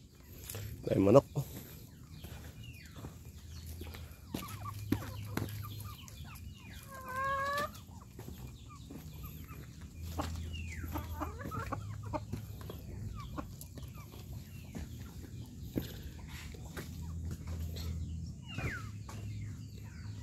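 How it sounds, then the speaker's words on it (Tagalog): Chickens cluck in scattered bursts outdoors on Mount Mataba in San Mateo, Rizal, with one short rising call standing out. The clucks are fairly faint against the open-air background, and people talk nearby. "Ay, manok."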